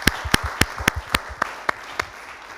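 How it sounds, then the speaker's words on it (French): Clapping for guests on a Burkinabe TV variety show set comes as a slow, regular series of about nine sharp, distinct claps, close and evenly spaced rather than a full crowd roar. "On va leur rendre hommage en applaudissant fort pour eux."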